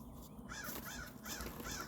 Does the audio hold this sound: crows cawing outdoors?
yes